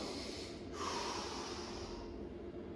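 A person breathes out during a deadlift hip hinge, a long, close, breathy exhale through the nose that begins with a short snort-like push and fades away, with no talking.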